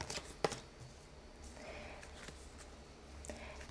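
Tarot cards drawn and laid out on a table, heard as a few soft, close slaps and papery rustles spread over a few quiet seconds in an otherwise still room.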